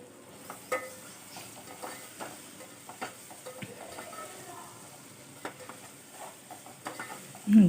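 Onions and tomatoes frying in a pan with ginger-garlic paste, a low steady sizzle with regular spatula stirs and taps, ending on one louder knock, no clear talk.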